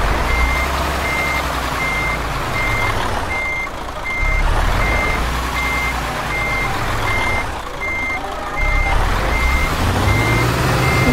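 Steady repeating reversing beeps from a truck in the Euro Truck Simulator 2 driving game, a loud regular pulse over a constant low engine rumble.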